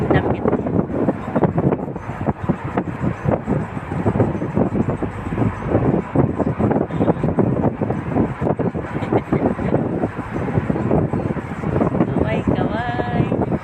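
Steady, loud wind rushes and buffets across the microphone during a motorbike ride through city streets at night, with a voice talking over the constant roar.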